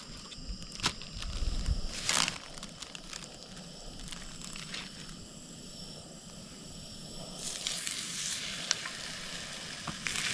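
Fish fries in a pan at an early-season ice fishing camp, giving a soft, continuous sizzle with a few sharper crackles and spatters, heard close and alone.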